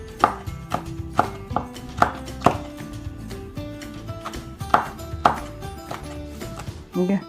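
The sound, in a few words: knife slicing deseeded Korean melon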